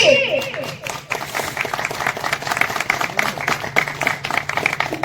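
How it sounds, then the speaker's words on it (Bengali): Group applause at an outdoor bike-ride gathering in Purulia, a dense steady patter of many hands clapping through the whole stretch, with voices mixed in over the crowd. "সবাই একটু জোরে হাততালি দেবে নাকি?"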